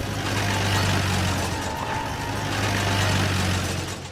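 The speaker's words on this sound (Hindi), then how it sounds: "तभी अचानक गांव में एक गाड़ी आकर रुकी।" A cartoon vehicle rumbles into a village and idles, its engine drone steady and close, with a faint hint of braking, no voices over it.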